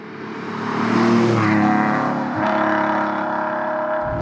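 A TVR Tuscan's 3.6-litre naturally aspirated 24-valve straight-six revs loudly and close, rising to a sustained high-rpm roar, dipping briefly, then holding a steady strained drone.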